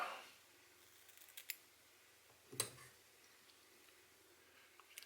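Small scissors snip off the end fibers of a pinch of lemon wood duck feather while tying a Light Cahill fly, two or three crisp, close, quiet clicks spaced apart in a very still room.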